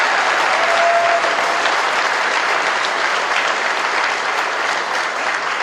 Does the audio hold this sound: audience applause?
yes